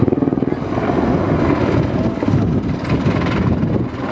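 An AgustaWestland AH-64 Mk1 Apache helicopter flies a display at the Manston Airshow in 2013, its rotor thumping in rapid pulses at first, then blending into a steady, loud, broadband roar with wind buffeting, with no one talking.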